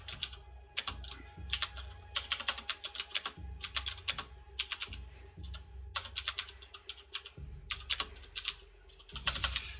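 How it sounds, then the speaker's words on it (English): Someone types on a computer keyboard in rapid bursts of close, crisp key clicks separated by short pauses, continuing steadily throughout. "You just get to listen to me type."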